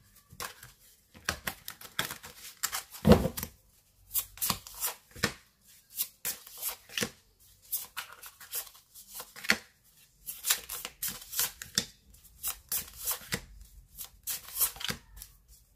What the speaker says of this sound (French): mélanger les cartes